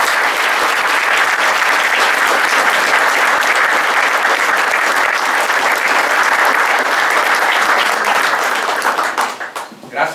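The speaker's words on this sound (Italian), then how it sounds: "Grazie per l'applauso" Dense, sustained applause from a large audience after a reading at Malga Sorgazza, loud and steady for about nine seconds before tapering off abruptly at the end.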